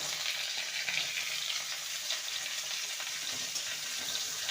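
Potatoes and pieces of pointed gourd frying in oil in a pan, giving a steady, close hiss of sizzling with no talk.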